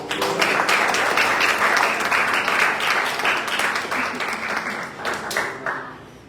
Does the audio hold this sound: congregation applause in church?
yes